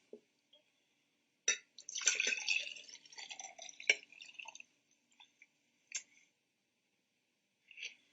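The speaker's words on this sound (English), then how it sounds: "Now we're going to pour this juice into this glass." Juice poured into a glass in a psychology class demonstration: a few brief splashes and a short burst of trickling liquid, then scattered faint drips and clinks separated by silence.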